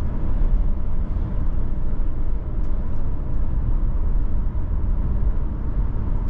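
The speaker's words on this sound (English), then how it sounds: "we're going to get wind noise, we're going to get road noise in this Forester" Inside a moving 2023 Subaru Forester Sport, steady broadband wind and tire roar fill the cabin, loud and even throughout, with no voices.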